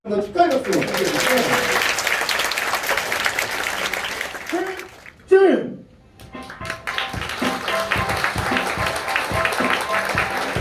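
Wedding guests in a Gangnam wedding hall break into loud, sustained applause that fills the room, dips briefly in the middle, then swells again as a host talks over it.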